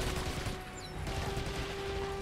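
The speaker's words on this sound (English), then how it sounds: "Can I man this machine gun? I can." Mounted machine gun firing in Medal of Honor: European Assault on PS2, dense rapid bursts of gunfire with a steady mechanical hum underneath, fairly loud and continuous.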